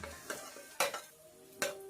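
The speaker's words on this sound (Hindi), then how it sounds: "और अब चिकन को फ्राई करेंगे तकरीबन 1 से 2 मिनट के लिए।" Shredded boiled chicken with cumin is fried and stirred in a pan, with a few sharp scraping clinks of a spatula against the metal over a faint sizzle, close and alone.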